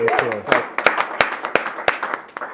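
A small round of applause on a rap interview show set, a handful of sharp, separate claps spaced irregularly, following a short bit of speech at the start.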